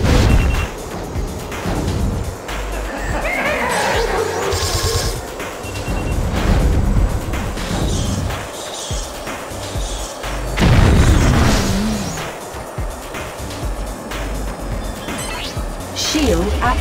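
Plasma weapon fire in the Wipeout Pure racing game: heavy booming blasts and thuds over constant engine roar and game music, with a big burst near the start and another about two-thirds through.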